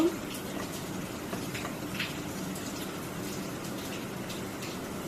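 Vegetable paratha frying in oil in a pan gives a quiet, steady hiss that runs unbroken through the whole stretch, with no talk over it.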